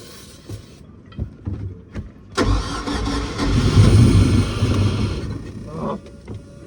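A project boat engine cranks on its starter for several seconds and catches, running loud and close for a few seconds before cutting out, with faint clicks beforehand.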